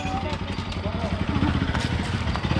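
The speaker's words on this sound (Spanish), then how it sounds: "Ahí que ponga la moto." A motorcycle engine chugs and clatters at low speed close by as the bike pulls in and parks, with people talking over it.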